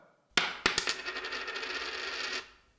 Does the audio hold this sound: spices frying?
no